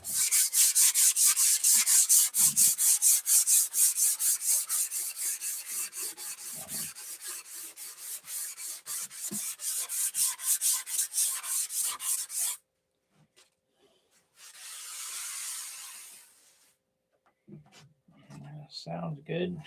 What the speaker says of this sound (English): I guess you guys are hypnotized by sanding.